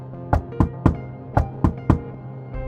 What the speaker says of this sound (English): Ted went up to the door and knocked.